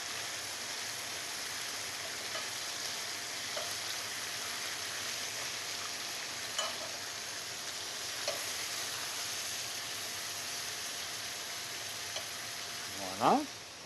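Veal tendrons fry in a pan with a continuous close, even sizzle, crackling steadily throughout, with a few faint clinks and a short clatter near the end.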